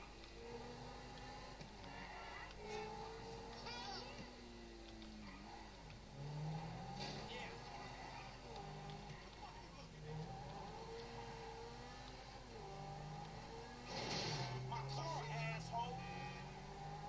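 A car engine in the GTA 5 video game revs up and down, its pitch rising and falling over about seventeen seconds, fairly loud with talk running over it.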